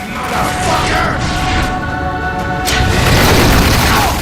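A triple darkness blast shot goes off in The Darkness II as a loud, heavy booming discharge with a mechanical grinding layer that keeps swelling, while a voice talks over it.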